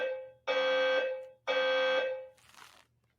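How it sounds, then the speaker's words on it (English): Two long, loud electronic alarm tones sound back to back, each about half a second apart, followed by a brief faint hiss, resembling a fire alarm warning going off indoors with no talk. "I don't know if that was like a fire alarm warning or what have you"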